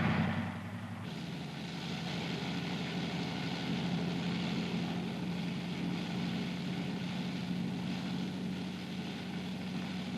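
A WWII US Army M2/M3 light or medium tank moves off in first gear, its engine a steady, loud, close drone with constant low rumble throughout and no voices.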